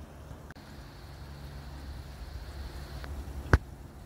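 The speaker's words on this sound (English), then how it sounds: "Now the noise you can hear in the background is the M25 motorway." Distant traffic from the M25 motorway forms a low, steady roar heard from high in a garden, with a faint thin whine and one sharp nearby click near the end; no speech.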